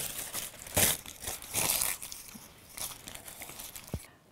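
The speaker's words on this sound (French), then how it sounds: "on va découper. Il me faut un ciseau par contre." Paper cut with scissors for a collage: soft, close crinkling and snipping in short, irregular bursts, faint and without talk.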